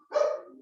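A dog gives a single short bark, fairly close and clear, with nothing else around it.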